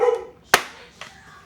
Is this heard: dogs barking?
yes